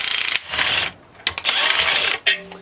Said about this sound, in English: So I'm just gonna unbolt this really fast.